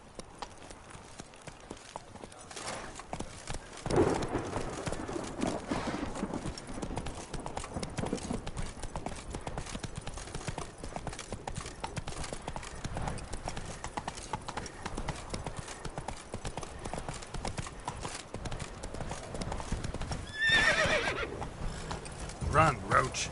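In The Witcher 3, a horse gallops with rapid, continuous clip-clop hoofbeats, and a neigh rises near the end, all set within game ambience and occasional voices.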